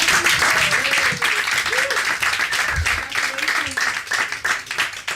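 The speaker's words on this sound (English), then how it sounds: "Can we give another round of applause for Joe?" A live cinema-night crowd in Margate gives a filmmaker sustained applause, a thick wash of clapping that runs the whole way through, with voices and brief cheers rising over it.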